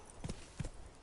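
Roach the horse from The Witcher 3 video game, with two quick clip-clop hoof impacts in under a second, soft and game-mixed, with no talking.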